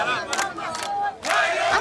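A big crowd of refugees in a desert refugee camp marches and chants thanks, loud massed voices rising in repeated surging shouts close by.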